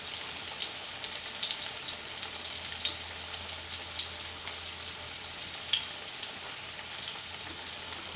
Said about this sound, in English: I can hear them sizzling, but I can't see them from this angle